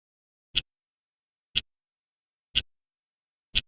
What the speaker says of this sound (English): Note the ticking sounds in the background that are designed to get us back on track.